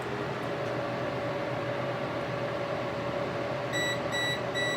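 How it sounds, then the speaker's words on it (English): An inverter sounds a low-battery warning beep under steady fan-like hum, three short even tones near the end, while a 12 V 100Ah LiFePO4 battery is loaded past 250 A to run a heater. "Oh, we got a beep. That came from the inverter though."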